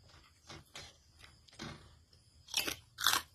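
Loud, close crunching bites into crispy pork rinds eaten with spicy Thai eggplant salad, a series of crisp, irregular crackles that grows louder toward the end, with no talking.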